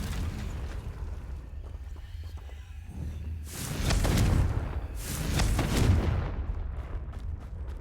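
A Confringo spell blast in the Hogwarts Legacy video game: two broad, rumbling explosive bursts a second or so apart rise over a low steady game ambience, fairly loud and close.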